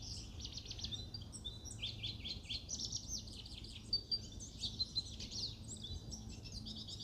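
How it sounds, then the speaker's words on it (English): A Lawrence's goldfinch sings a high, tinkling run of twittering chirps and short warbled phrases, continuous over a faint low background rumble, with a few brighter accented notes midway. "Let's take one more listen to the song of the Lawrence's goldfinch."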